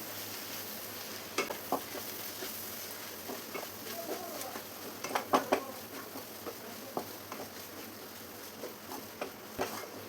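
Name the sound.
stirring onions with Kashmiri chili powder in frying pan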